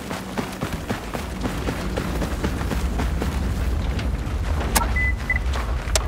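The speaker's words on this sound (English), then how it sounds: "More detonators. More explosions!" Explosions and detonator blasts in the Star Wars Battlefront II video game, set in a hangar: a dense run of booms and impacts with gunfire-like transients over a steady low rumble, loud throughout, with a sharp crack near the end.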